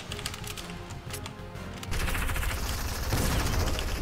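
Rapid gunfire erupts in the Fortnite video game, a dense burst of sharp shots that swells into sustained loud automatic fire in the second half.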